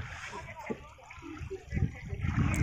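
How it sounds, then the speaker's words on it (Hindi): A boat moves across a river near Sadiya, Assam, with soft sloshing and splashing water that swells toward the end, heard faintly under nearby talking. "पानी के ऊपर, नाव चल रहा है।"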